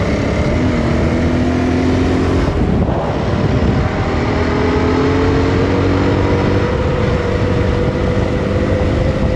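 An enduro motorcycle rides along a paved road, its engine droning steadily at a constant pitch under heavy wind buffeting on the microphone, loud and continuous throughout with a brief dip near the start.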